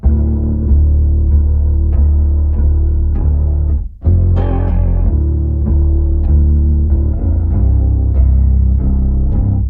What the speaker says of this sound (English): But with an octave pedal, it sounds like this.